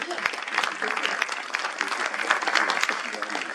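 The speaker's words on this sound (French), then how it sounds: "vous pouvez l'applaudir" Audience applause at a nature protection association's anniversary gathering, a dense, continuous round of clapping from a room of people, loud and close, with a few voices faintly mixed in.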